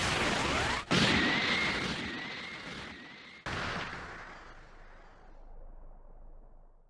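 Special Beam Cannon attack in Dragon Ball Sparking Zero: a loud sustained blast with a rising energy whine, cut by two sharp breaks before fading into a rumbling tail, with no voices.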